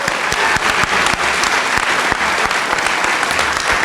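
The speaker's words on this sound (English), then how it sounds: "Please join me in giving one more round of applause to these 9 very inspirational individuals." Audience applause at a college distinguished alumni recognition ceremony, a dense, sustained wash of many hands clapping from a crowd, steady throughout.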